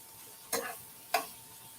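Two short scraping stirs a second apart in a pan of plant-based food sizzling softly, close and quiet with no one speaking.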